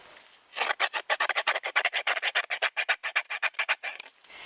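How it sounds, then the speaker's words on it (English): Rapid rhythmic scraping as the blunt back of a knife cleans out the rim of a fresh calabash bowl in Guadeloupe, about twenty quick close strokes in a steady run, with no talking. "scrape with the back side of the non-sharp side of the knife, clean out the rim"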